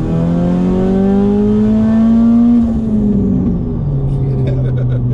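A tuned Mercedes-AMG A45 with a big turbo revs hard, its engine note climbing smoothly in pitch and then dropping off as the revs fall, loud and close, with the car's drone continuing underneath.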